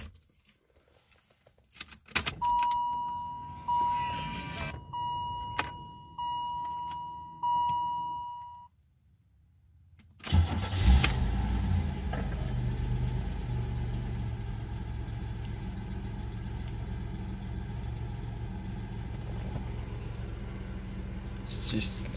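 A 1992 Buick Regal Limited with 99,932 miles has its keys jingling while a steady warning chime repeats, then the engine cranks, catches loudly and settles into a smooth, steady idle.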